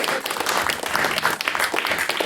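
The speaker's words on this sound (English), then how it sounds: "another round of applause for Ben and everyone from Queen's" Audience at a debate breaking into applause, a dense, steady patter of many hands clapping together for a couple of seconds, fairly close and lively.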